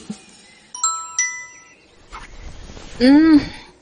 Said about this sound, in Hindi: मेरा फोन बज रहा है क्या?